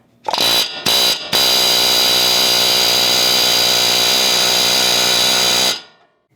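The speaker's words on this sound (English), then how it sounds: "an air hammer and to just hammer it in from the backside" A loud pneumatic air hammer rattles in rapid bursts against a wheel stud on a Toyota Tundra: two short blasts, then one long, sustained hammering run of about four seconds that stops abruptly.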